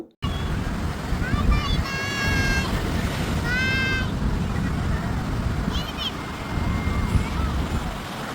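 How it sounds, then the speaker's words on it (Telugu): Sea waves wash steadily onto Vizag's RK beach as a constant broadband surf roar, with bird-like calls and voices of beachgoers scattered over it. "ఆ సముద్రపు అలలు చూడండి ఎంత బాగున్నాయో"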